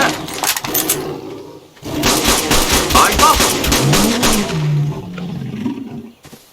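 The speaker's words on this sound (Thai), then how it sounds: "เสียงเสืออยู่ข้างล่างนี่นะ" A tiger's deep, rumbling roar swells up under loud game sound effects and bursts in the video game ARK, fairly close and sustained.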